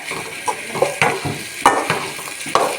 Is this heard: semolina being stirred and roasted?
yes